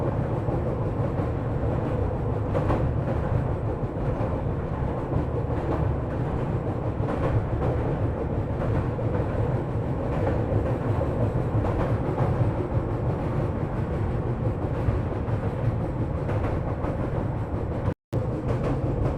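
The Sairang Rajdhani Express train crosses the Koilwar road-cum-rail bridge, a loud, continuous rumble and rattle of rail cars with steady clickety-clack pulses throughout, heard close with no voices.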